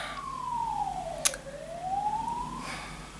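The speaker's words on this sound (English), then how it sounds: "and there's a siren." A single siren sweeps downward in pitch and then rises again, moderately loud and seemingly passing in the street, with a sharp click midway and no talk over it.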